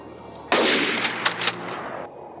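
A loud, sudden gunshot effect cuts in over quiet street background, with a few sharper bursts and crackles trailing off over about a second and a half.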